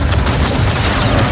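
Dense, loud rapid gunfire in Cyberpunk 2077: Phantom Liberty, a continuous barrage of shots filling the moment with no pause.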